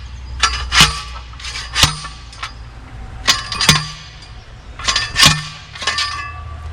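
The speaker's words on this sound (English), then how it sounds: "We put these stakes in here to hold the tomato cages" Metal garden stakes for tomato cages clank and clink together in irregular bursts as they are put in, each strike ringing briefly, close by with no talking.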